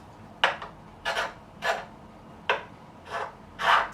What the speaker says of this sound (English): Using a leveling beam also to get some of these deep scratches out